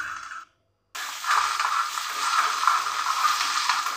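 Ragi flour batter with green chillies and coriander is mixed in a bowl, giving a close, wet scraping and squishing that repeats steadily after a brief silent pause.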